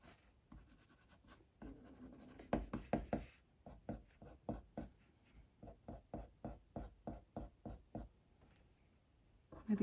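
Coloured pencil strokes on drafting film while shading white fur on a badger drawing: a quiet, close series of rapid scratchy taps in a steady rhythm, with brief pauses between bursts.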